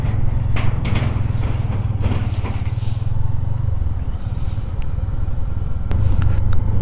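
Motorcycle riding along a cold mountain road toward Sharda in the Neelum Valley in winter, a steady low engine drone with wind rumble, holding a constant mid level with no talk.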